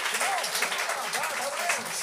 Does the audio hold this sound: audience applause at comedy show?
yes